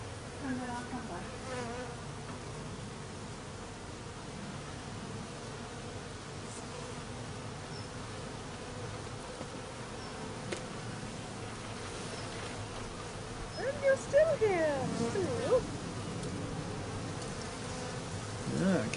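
Angry honey bees buzz around an open beehive during a hive inspection. It is a steady, fairly faint, continuous drone, with a bee passing closer and louder partway through.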